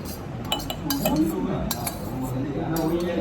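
A spoon clinks against a plate during a meal, giving a handful of light, sharp taps scattered over a few seconds above a soft, low murmur.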